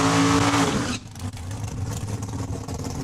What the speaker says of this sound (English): Travis McBain backing up on the starting line.